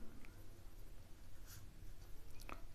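Pen writing on paper for a maths worked example, soft scratchy strokes in short bursts, close and quiet with a faint background hum.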